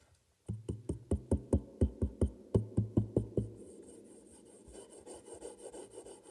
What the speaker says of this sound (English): my nails scratching on the top of the guitar.